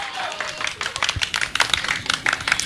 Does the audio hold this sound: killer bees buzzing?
no